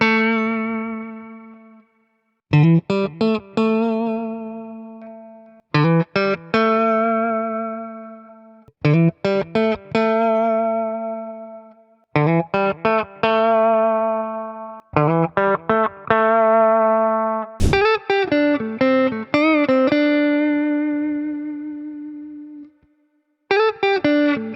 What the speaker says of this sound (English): So now we're gonna test the clean sound on this guitar. I'm using the GP50 with my NAMM presets.